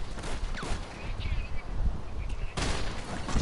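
Gunshots in GTA 5 Online: rapid shooting and a sharp burst near the end, loud and close, with game voices talking over the action.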